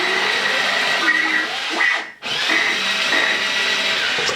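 A ThinkWay R2-D2 interactive toy robot drives around on its small motors, giving a steady whirring drone that briefly dips and cuts out near the middle before picking up again, close and continuous.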